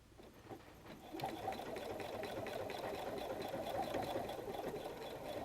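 A sewing machine whirs steadily while stitching a messenger bag at a 2.5 stitch length, starting softly and then running fast and even at close range for several seconds, with no talking.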